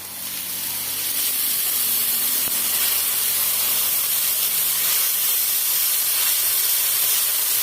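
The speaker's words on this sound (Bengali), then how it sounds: "দিচ্ছি একটু জল" Water poured into a hot pan while cooking dried fish, producing a loud, steady hiss of steam that holds without a break throughout.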